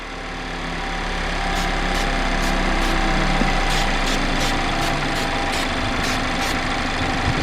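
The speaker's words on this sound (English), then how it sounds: "Now that we have the engine running" A Mazda Miata ND3 engine with its noise tube removed idles steadily with a constant low rumble and light mechanical ticking, with no talking.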